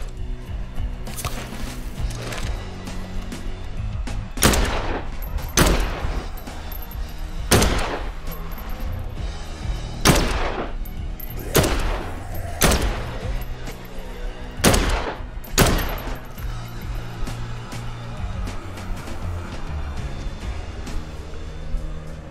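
Repeated gunfire in the Dead Island 2 video game, a series of sharp, loud shots at irregular intervals over a steady background of game ambience, with no talk.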